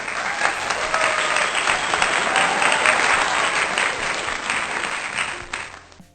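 Students in a classroom applaud together, a steady dense wash of many hands clapping that holds for several seconds before fading out at the end.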